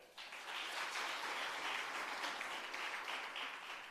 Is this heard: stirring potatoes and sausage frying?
no